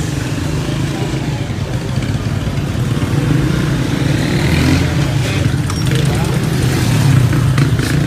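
Motorcycle engine rumbling steadily in street traffic in Pétionville, Haiti, during a police operation, a loud continuous low drone that swells slightly toward the end, with voices and background commotion mixed in.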